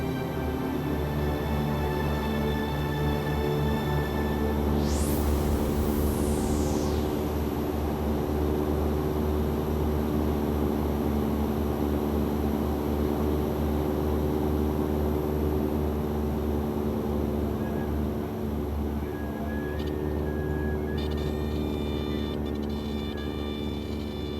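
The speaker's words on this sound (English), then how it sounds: "George takes the plane down low, looking for signs of the current Leakey expedition" A small propeller plane flying low over the eastern shore of Lake Turkana in northern Kenya, its engine a loud, steady droning hum that stays close and constant throughout with no voices.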